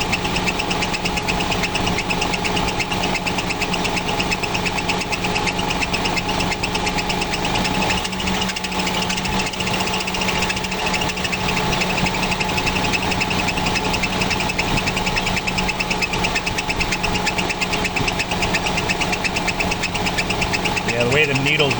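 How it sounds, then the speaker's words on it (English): Failing air compressor on a tractor engine, a loud continuous knocking, rattling drone, steady throughout, with people talking over it. "it really sounds like air compressor giving out."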